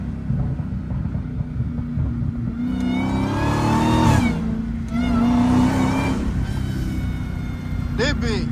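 Dodge Hellcat engine revving up and holding two strong rises with a low rumble beneath, close and loud, while people talk over it.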